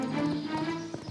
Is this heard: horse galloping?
yes